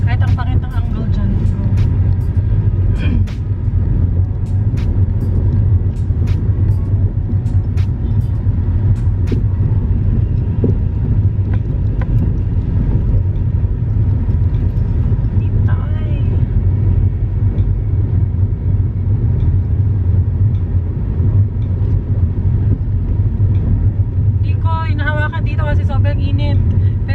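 Steady engine and road rumble fill a car cabin from inside throughout a drive, with occasional clicks and a brief tonal chime near the end.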